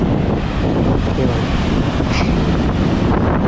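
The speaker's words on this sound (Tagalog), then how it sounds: "And then ito ang dagat." Sea waves and strong wind on a beach at San Antonio, Zambales, a steady broadband roar that fills the whole stretch with gusting buffeting against the microphone and no clear break between swells.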